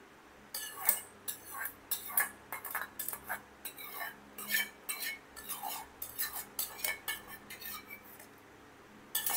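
A metal saucepan is set down and handled in a home kitchen, a series of sharp clinks and taps, close and fairly quiet, with gaps between.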